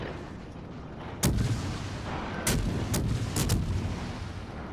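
Warship guns and torpedoes fire in World of Warships, with several sharp booming blasts over a steady rumbling battle backdrop, one near the start and a cluster of loud shots toward the end, with no talking.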